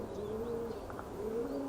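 Domestic pigeons near a dovecote coo in soft, repeated low rolling calls, steady and fairly close over a quiet outdoor background.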